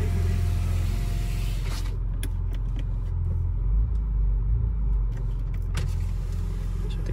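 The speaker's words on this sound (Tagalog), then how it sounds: "So ito yung tunog ng exhaust niya." Exhaust of a 2025 Ford Ranger Raptor with a V6 and 10-speed automatic, a deep steady idle rumble close to the tailpipe, loud and continuous throughout with no talking over it.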